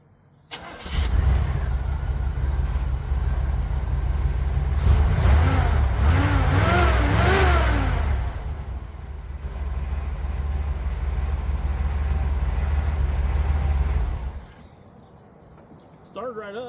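A Chevrolet C10 pickup engine with a carburetor cranks and fires, then revs loudly in rising and falling pulls before settling to a steady idle and cutting off near the end.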